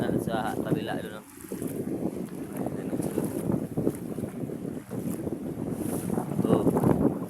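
Strong wind buffets the microphone beside rough sea waves during rain, from a boat on open water, a steady loud roar with surging rushes and no clear speech.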